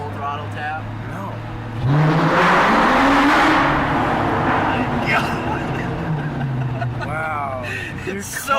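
A car at a college car meet revs hard at full throttle, its engine note climbing loud and close for a couple of seconds before easing back down, with people talking nearby before and after.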